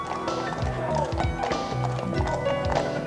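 Hooves of a trained police horse clip-clop steadily on hard ground in a brisk, even rhythm, loud and close, with other outdoor sound around them.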